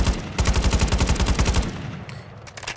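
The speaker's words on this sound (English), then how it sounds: "The Cast-Off 545 from Modern Warfare 2 2022." Cast-Off 545 automatic shotgun from Modern Warfare 2 (2022), recreated in a homemade game: a rapid burst of loud, close gunshots in quick rhythm for about a second and a half, followed by a fading echoing tail.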